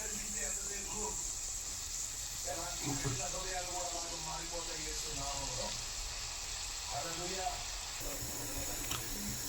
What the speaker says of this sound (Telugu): అంతా మెల్ట్ అయిపోయి నీట్గా వెన్న వెన్న కాస్త నెయ్యి అయిపోతుంది